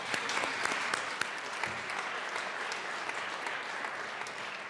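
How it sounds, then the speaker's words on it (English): Applause in the Colorado House chamber for visiting Adams State University students, a broad steady clapping from many members, fairly soft and distant, continuing without talk. "Let's give them a round of applause."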